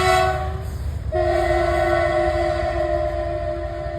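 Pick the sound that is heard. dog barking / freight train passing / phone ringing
freight train passing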